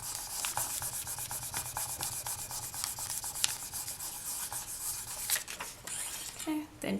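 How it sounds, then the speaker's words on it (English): Polymer clay scraps being burnished for beads give a steady, close rubbing sound with rhythmic strokes, soft and continuous, and a few brief clicks near the end. "Then burnish again. And that'll stick it all together."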